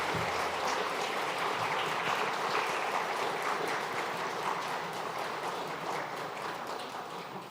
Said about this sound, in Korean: 다시 한번 박수로 끝까지 저희가 축복하고 축하하도록 하겠습니다